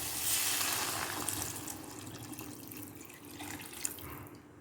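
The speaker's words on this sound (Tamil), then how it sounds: "இப்போது ஒரு செம்பு தண்ணி விட்டு கொதிக்க வச்சிடலாம்." Water being poured from a vessel into a cooking pan of sautéed tomato and onion while making masala instant noodles, a steady continuous splashing gush that is loudest at the start and tapers slightly.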